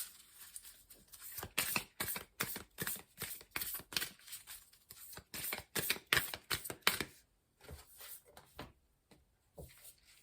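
Cards from an Alana Fairchild Isis Oracle deck are handled and drawn, giving quick, rhythmic papery snaps and shuffles in a close, fairly quiet run that thins out into a few scattered flicks toward the end.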